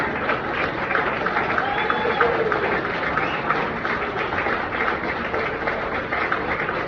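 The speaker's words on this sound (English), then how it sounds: "keep clapping for your next comic" A comedy club audience keeps up steady, dense applause and cheering between stand-up comics, a continuous roomy roar of clapping without clear speech.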